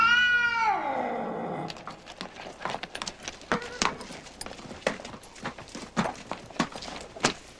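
A cat gives one drawn-out, falling meow right at the start, then footsteps and soft clip-clop knocks scatter irregularly through the rest at moderate loudness.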